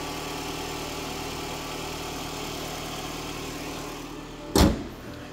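A 2012 Toyota Alphard with a 2.4 litre petrol engine idles steadily at close range, a smooth even hum with no talk, briefly interrupted near the end by a short sharp knock or thump.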